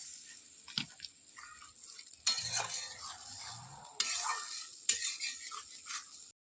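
Spice paste with cashew paste is stirred and fried in a pan, giving a soft bubbling sizzle with a few sharp scraping strokes of a spoon, close and alone without talk.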